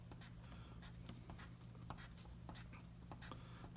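Marker or chalk scratches out numbers on a board in quick, faint strokes, a series of short scratchy taps and squeaks repeating steadily with no voices.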